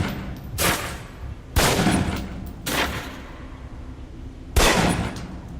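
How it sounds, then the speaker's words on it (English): Pistol fire on a target range in the video game Alpha Protocol: four sharp, loud shots spaced unevenly about a second apart, each a broadband crack with a short tail, standing alone with no talk. "Equip the pistol, then aim down range and take some shots at the target."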